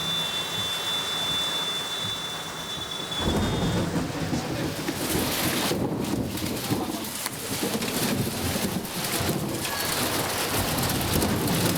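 Steady heavy rain with rumbling thunder rolling in after a few seconds, loud and close, continuing to the end.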